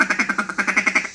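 A duck call is blown in a quick rhythmic run of about ten nasal quacks, loud and close, fading at the end.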